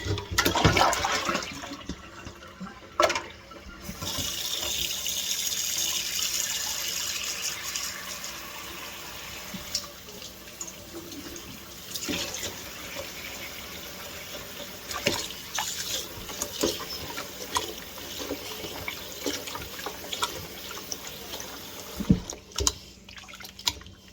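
Raw flour dough being rinsed and kneaded under a running tap while making washed-flour seitan, giving a steady rush of water with splashing and dripping throughout. No one speaks.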